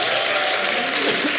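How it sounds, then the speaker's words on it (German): Church congregation clapping in brief applause, a short dense burst of hands with a faint murmur of voices underneath. "Gebt doch mal dem Silas einen herzlichen Applaus"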